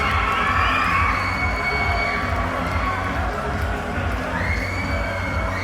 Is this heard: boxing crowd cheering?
yes